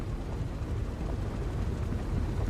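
Spaceship engines running in Star Citizen, a continuous low rumbling drone with a rough, steady texture, close and constant throughout with no other sounds.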